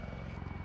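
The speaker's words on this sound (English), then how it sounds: "This is a 1977 Westland Gazelle helicopter." Steady low rotor thrum of a 1977 Westland Gazelle helicopter, loud and continuous with rapid pulsing beats throughout the short moment.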